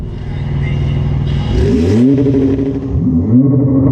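At a drag race, a revving engine idles, then surges through two rising acceleration sweeps as a car launches nearby. Tesla Model S Plaid cars are racing here, but the engine tone suggests a combustion car alongside. The sound is loud and close, with no speech.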